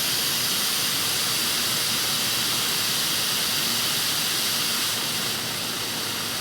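An Iwata WS400 Series 2 spray gun blasts air at high pressure, around 39 psi, a loud, close, unbroken roaring hiss that holds steady and eases slightly near the end.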